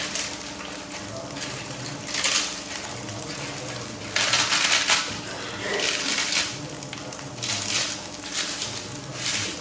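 A papad (appalam) is snapped into pieces by hand, giving several short bursts of brittle crackling at irregular intervals, with a low background hum between them.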